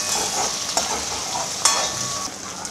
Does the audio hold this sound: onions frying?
yes